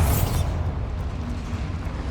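A Bombarda exploding spell in Hogwarts Legacy bursts with a sharp, loud blast at the outset, then fades into a long, steady low rumble with faint clicking debris over the remaining seconds.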